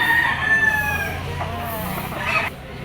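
Yellow-legged Sweater-bloodline gamecock rooster crowing up close, a loud drawn-out call over steady background noise, followed by a second shorter cry near the end.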